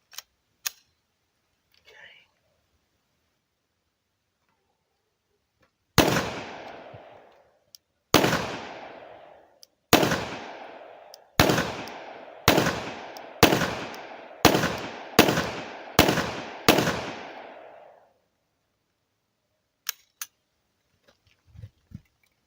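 A Glock 17 pistol fires at a target 30 meters away: nine loud, sharp shots, close by, at a steady rhythm with short ringing tails, then quiet.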